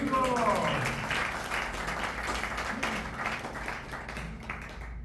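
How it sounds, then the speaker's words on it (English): An audience claps for an elderly devotee at a gathering, a steady mid-level patter of many hands that slowly thins out toward the end. "to give a big clap to Prabhu Kashyap for his achievement"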